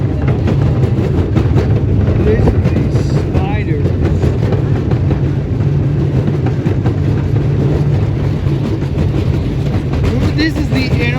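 Diesel locomotive on a park railroad, heard as a steady loud rumble with rhythmic clicking along the track, running continuously and close by.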